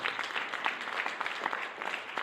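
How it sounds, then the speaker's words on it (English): An audience at a teen mental health panel discussion applauds steadily at moderate distance, with a continuous patter of many hands and no speech over it. "A round of applause."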